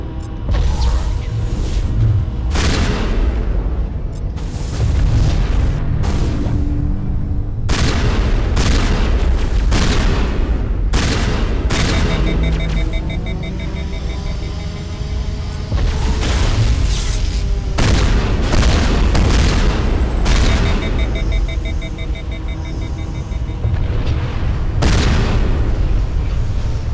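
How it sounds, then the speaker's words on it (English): Shotgun loaded with explosive rounds in the sci-fi shooter Mass Effect, fired again and again: loud, close booming blasts at irregular intervals over a dense rumbling battle din, with no talk. "Explosive rounds on a shotgun built just for raw damage is like the best thing."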